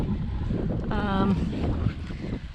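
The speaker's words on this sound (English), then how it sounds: "And I got some wind blowing here" Wind blows outdoors near a kayak being loaded, a constant low rumbling buffet against the microphone, close and loud, with a voice speaking briefly over it.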